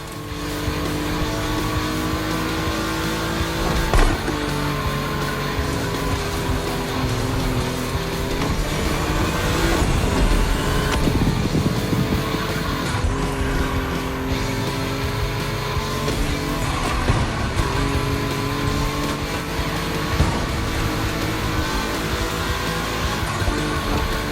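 Volkswagen race cars roar around a track in a steady, loud stream of engine drone, rising and falling as they pass, with occasional tire squeal and no talking.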